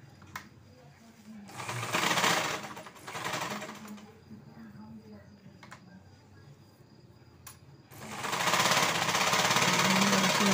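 A sewing machine stitches a blouse in loud bursts of rapid mechanical whirring, separated by quieter pauses and ending in a longer sustained run, with soft indistinct voices in the background.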